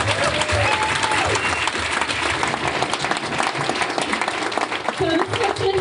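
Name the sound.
audience applause after pitches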